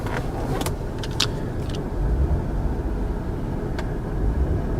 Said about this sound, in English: You can hear this Jaguar roar.